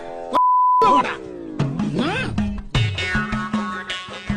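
A sustained censor beep tone of about half a second cuts in sharply, then gives way to expressive, animated voices and sound effects in a Tamil comedy reaction piece.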